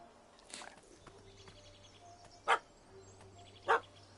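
A dog in a video game barks twice, sharp and clear, at a cat that has fled up a tree, against a quiet outdoor ambience with faint bird-like calls.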